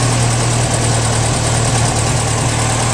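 A Porsche 356 Speedster replica engine, tuned up like a race car and intentionally loud, runs at a steady idle with a deep, constant low rumble and no change in pace throughout, close by and alone.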